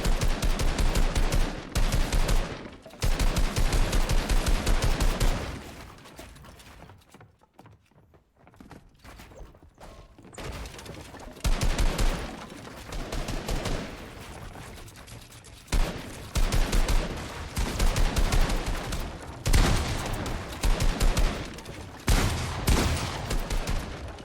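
Gunfire in a Fortnite boxfight, loud bursts of rapid shots in dense clusters separated by brief near-silent gaps, with a quieter stretch in the middle.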